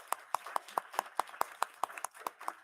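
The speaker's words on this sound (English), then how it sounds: "So if we could give Mr. Levesque a round of applause." Sparse clapping at a school board meeting, a few hands striking in a quick even rhythm, faint and somewhat distant.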